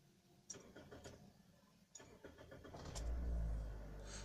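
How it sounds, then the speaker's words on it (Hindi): A 2010 Toyota Corolla Altis 1.8 automatic being started: a few soft ticks and clicks, then the starter cranks and the engine catches into a low, close idle rumble. "और अब जो है मैं गाड़ी को कर लेता हूँ स्टार्ट।"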